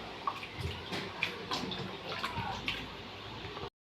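Water splashes and gurgles over about 1 kg of raw mutton being rinsed by hand, with soft drips and sloshing at close range, steady for a few seconds before cutting off.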